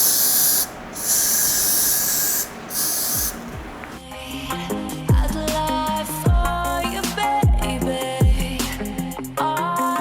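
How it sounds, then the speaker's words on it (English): Got2b Freeze hairspray hisses onto a wig's parting in two or three short close bursts, followed by background music. "I sprayed some got-to-be freezing spray on the top so any flyaways could lay"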